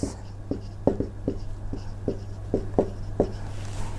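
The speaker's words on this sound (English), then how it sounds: "So let me write that down in case you are confused." A pen writes notes on a chart, with soft scratchy strokes and light taps at a steady, irregular rhythm over a constant low hum.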